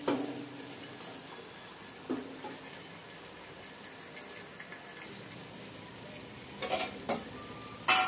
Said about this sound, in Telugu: ఇక్కడ ఈ టొమాటోస్ కొద్దిగా సాఫ్ట్ గా అయ్యే వరకు వేయించుకోవాలి.